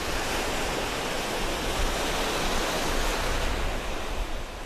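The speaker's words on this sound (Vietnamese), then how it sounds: "Biển Đông vẫn ầm ào với những con sóng dữ" Ocean waves surge at sea: a steady, loud, broadband wash of surf that rises and falls slightly and carries no talk over it.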